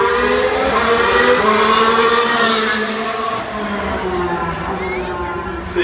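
Formula 1 cars racing at the 2016 Singapore Grand Prix, loud engines screaming with gliding pitch as they accelerate and shift, then fading slightly, with a commentator talking over them.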